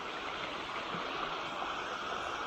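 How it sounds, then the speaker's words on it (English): South Peachtree Creek, just below where Burnt Fork joins it, flows over rocks in a park, a soft, steady rush of moving water that stays constant and fairly quiet with no voices. "this is South Peachtree Creek, and it is after the convergence of Burnt Fork and South Peachtree."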